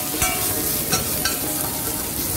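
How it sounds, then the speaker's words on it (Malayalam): Crushed ginger, garlic, shallots and curry leaves fry loudly in a pan. A steady, dense sizzle runs throughout, with three brief scrapes as the mixture is stirred. "അത് കഴിഞ്ഞ് കരിയാപ്പിലയിട്ട് നന്നായിട്ട് ഇളക്കി"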